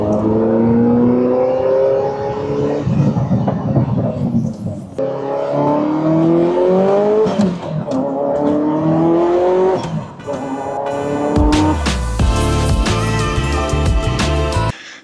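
Ferrari F40 on studded snow tires driving on the road, engine revving up and down through several gear changes, loud and close, ending with a harsher, gritty roar.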